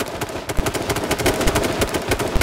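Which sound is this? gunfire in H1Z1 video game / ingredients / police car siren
gunfire in H1Z1 video game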